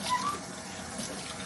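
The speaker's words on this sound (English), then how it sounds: "That's just going to be run under the tap." Hot tap water runs over a Shark Lift-Away vacuum filter as it is rinsed under a faucet, giving a soft, steady hiss and splash that is fairly quiet and close, with no talking.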